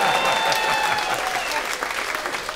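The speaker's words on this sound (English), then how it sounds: "Clap it up for Angela back there, everybody." A stand-up comedy crowd claps loudly and continuously, a dense, close burst of applause with no speech over it.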